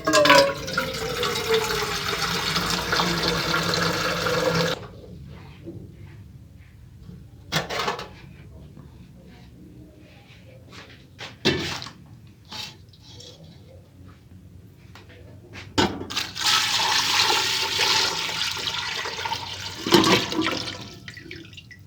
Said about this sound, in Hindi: आलूओं में पानी डाल दिया है